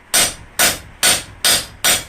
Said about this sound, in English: sometimes you'll just have to hammer on it a little bit to get it straightened out